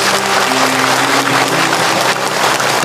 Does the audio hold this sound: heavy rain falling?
no